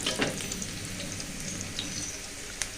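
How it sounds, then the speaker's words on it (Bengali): Vegetables tempered (baghar) with onion and dried chili sizzle steadily in hot oil, a continuous crackling hiss with a few sharper pops, fairly close and alone with no talk. "এখানে আমি সবজিটা বাগার দিব তো সবজিটা বাগার দেওয়ার জন্য এখানে আমি পেঁয়াজ তারপরে শুকনা মরিচ"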